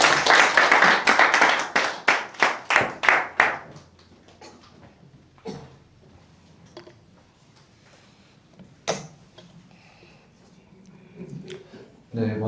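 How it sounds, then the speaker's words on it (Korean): A church congregation bursts into loud, rhythmic clapping to welcome a member coming forward, a steady run of claps lasting a few seconds before fading into quieter room noise, shuffling and a few scattered knocks. "우리 박수로 환영하겠습니다."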